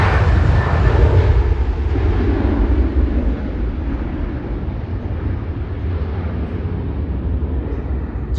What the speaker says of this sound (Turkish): Uçak gidiyor bakın ne.